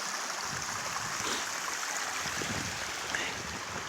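Creek water pours steadily from a funneled spout along a mountain trail near Milk Creek, a continuous close rushing splash with no talk over it.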